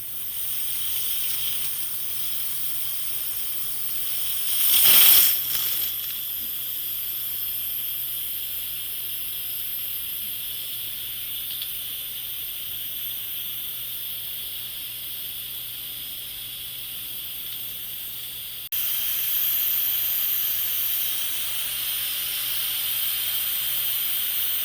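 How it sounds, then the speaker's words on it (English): An Instant Pot cooking white rice vents hot steam during a manual pressure release, a loud close burst of hiss at first and then a long, steady, softer hiss with no talking. "It's hot steam coming out, so be careful."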